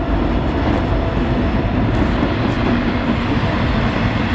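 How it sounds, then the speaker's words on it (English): A train rolls past on active railway tracks right beside an old abandoned trailer park, a loud, continuous rumble and rattle of wagons at close range, without voices. "the whole place sits right next to extremely active train tracks. It's just constantly trains going back and forth."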